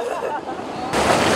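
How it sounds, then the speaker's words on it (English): Waves break on a rocky Mediterranean beach beside a half-sinking dinghy: a close, loud rushing wash that surges and grows stronger partway through. "It's quite difficult to get off the boat with the waves breaking"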